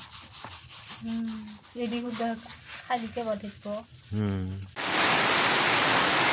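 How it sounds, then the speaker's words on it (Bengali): Voices talk for several seconds, then night rain suddenly begins and fills the rest of the clip with a loud, even hiss of falling drops. "রাতের বেলা বৃষ্টি শুরু হয়ে গেছে"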